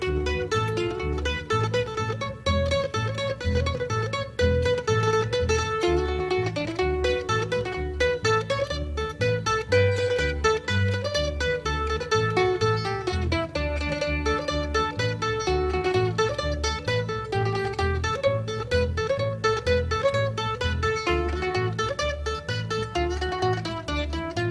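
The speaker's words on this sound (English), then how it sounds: "I felt it was only right for me to play a mandolin tune for them today" A mandolin tune played in a mountain music setting, with dense steady picked notes running continuously and fairly loud from start to finish, no talking over it.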